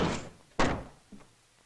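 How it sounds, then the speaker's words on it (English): An old wooden cottage door swings open with a creak and a thudding bump, then a faint knock-like tap follows; one clear movement close by with no voices. "The wolf opened the door"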